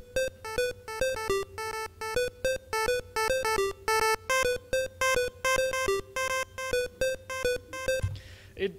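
A Famitracker chiptune line on the NES pulse 2 channel, its square-wave notes pulsing in a quick repeating rhythm as stepped volume changes swell and fade each note, fairly quiet and alone until a short noisy tail at the end.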